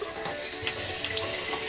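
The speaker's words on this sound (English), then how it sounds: "I'm turning on the water to see if it's shower hot" An indoor faucet fed by a bread box solar water heater runs steadily, a close, continuous splashing hiss into the sink with small spatters.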